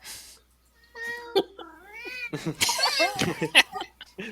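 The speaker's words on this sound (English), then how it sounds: "Meow, Scooter Cat." A cat meows several times in quick succession amid a tabletop role-playing game session, its cries mixed with overlapping voices and laughter from players around the table.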